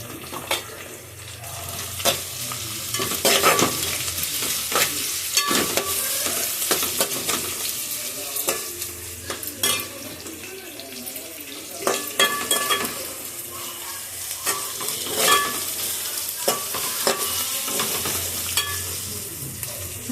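Garlic fries in a hot pan for a Telugu leafy-greens curry, sizzling steadily while a spoon scrapes and stirs in frequent sharp clinks and strokes, close and fairly loud with no talking.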